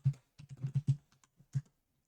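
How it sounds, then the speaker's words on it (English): Someone typing on a computer keyboard, a quick run of close, crisp key clicks followed by a pause and a couple of final taps, alone in a quiet room. "so I will type MonetDB start, and then I will type folder with my server"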